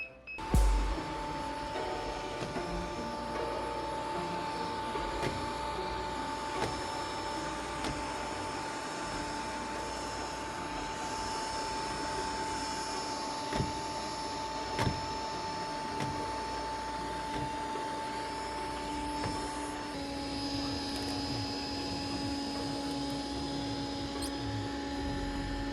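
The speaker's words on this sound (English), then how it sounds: "This is a vacuum stuck once again on a little bitty throw rug." A Bissell SpinWave wet and dry robotic vacuum, stuck on a small throw rug, gives a steady close mechanical whir and hum with a few faint clicks, its tone shifting slightly near the end.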